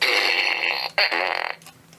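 A loud, close fart rasps out in two long buzzing bursts with a brief break between them, the second tailing off into a rattling flutter.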